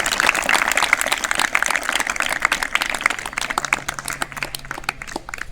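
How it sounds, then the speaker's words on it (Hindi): An audience claps for a girl being honoured for third place at a state-level kids' athletics championship, a steady patter of many hands at moderate volume that thins slightly toward the end. "इसमें तालियां बजाओ"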